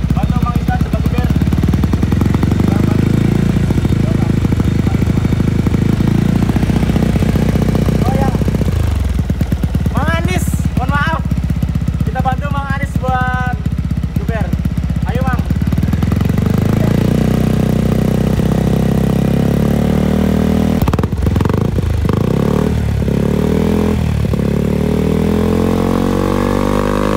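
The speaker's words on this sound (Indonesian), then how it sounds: "Nah, ini posisinya lagi di idle dan coba kita geber." Yamaha Xmax 250 scooter fitted with a Termignoni exhaust, idling with a steady low rumble and then revved in several sharp bursts, close to the microphone and loud throughout.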